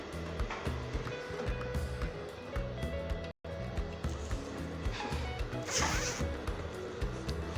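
A skirt zipper is worked open close by, with repeated ratcheting zip strokes and rustling fabric, a brief gap partway through and a sharper scrape near the end.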